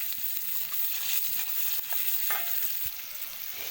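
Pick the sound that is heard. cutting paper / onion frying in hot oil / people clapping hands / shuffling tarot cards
onion frying in hot oil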